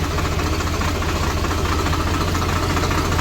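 A steady, loud diesel engine of a new tractor doing spraying work rumbles and chugs continuously with a heavy low throb and mechanical vibration, no voices heard.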